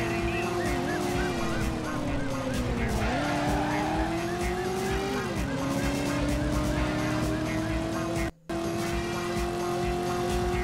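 Cars in the PS1 game Driver roar along with engine pitch rising and dipping through gear changes, with tire squeals and skids layered over a dense, loud mix and a brief cutout near the end.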